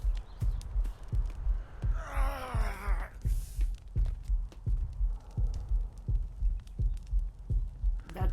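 A heavy heartbeat pounds in the Atlas video game, with steady low thumps repeating about every half second throughout. A brief creature cry rises over the beat near the middle.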